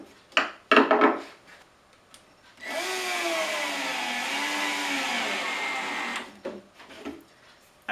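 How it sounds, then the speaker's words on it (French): Power drill boring into soft particle board for a pocket-hole drawer joint, a few light knocks and then a steady whining drill run of several seconds with a wavering pitch, close and alone. "on drille dans de la particule, c'est mou"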